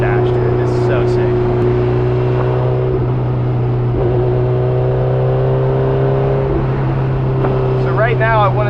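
A Honda S2000 with a built K24 engine drives along a road, its steady, loud engine drone holding a strong tone from inside the cabin, with a voice speaking briefly near the end.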